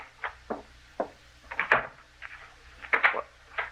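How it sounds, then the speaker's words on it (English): A door being locked in a radio drama sound effect, heard as a series of crisp knocks and clunks of the lock and handle, with a couple of heavier rattling clatters in the middle and near the end. "He's locking the door again."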